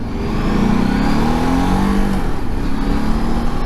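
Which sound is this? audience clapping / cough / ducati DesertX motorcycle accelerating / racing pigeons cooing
ducati DesertX motorcycle accelerating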